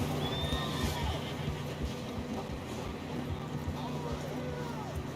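A horse whinnies amid a steady Red Dead Redemption 2 soundscape, with hoofbeats and ambient noise running throughout at moderate level.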